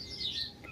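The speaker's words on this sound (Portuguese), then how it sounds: "calopsita que chegou aqui tem mais ou menos uns 15 dias." A cockatiel gives a short, bright chirp, a thin whistled tweet heard fairly close over faint background noise.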